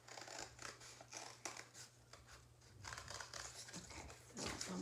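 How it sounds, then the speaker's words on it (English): Scissors snip repeatedly through a stack of layered paper pieces for a heart-shaped bumblebee craft, giving close, quiet, irregular crunching cuts with papery crinkles and no voices. "I'm going to hold on to them while I cut around the whole stack"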